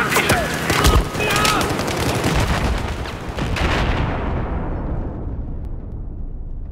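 Sustained M249 light machine gun fire in Battlefield 4 rattles loud and dense for several seconds, mixed with booming battlefield explosions, then cuts off and leaves a fading echo.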